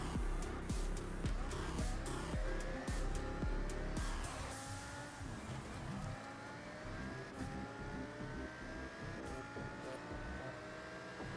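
A race car brakes hard in Forza 6, engine note dropping through rapid downshifts with sharp blips and tire noise, loud and close, then settling into a lower revving drone.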